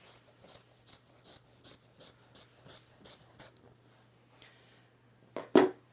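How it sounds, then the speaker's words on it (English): Excess quilt fabric cut away in a quick series of about ten soft, even snips or scraping strokes, faint and close, ending in a sharper rustling clatter. "I'm going to cut about an inch or so below"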